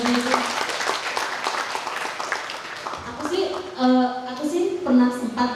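An audience applauds a guest at an Indonesian talk show, with clapping building in bursts beneath ongoing music and hosts talking over it.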